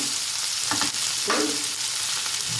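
Ginger-garlic paste sizzles and fries with onions in hot oil for mutton fry, a steady close crackling hiss with a couple of brief stirring scrapes, no talking.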